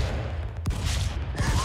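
Shotgun blasts in the stick-figure brawler game Stick Fight: two sharp booming shots a moment apart, set against dense, continuous game noise.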